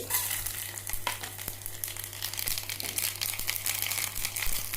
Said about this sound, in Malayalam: ഇതിലേക്ക് നമുക്ക് കടുകും മുളകും കൂടെ ഇതിലിട്ട് കൊടുക്കുന്നുണ്ട്